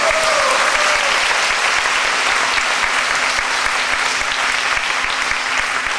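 Dense, sustained applause from a large church congregation at a Korean Christian revival gathering, steady and loud throughout with no pauses.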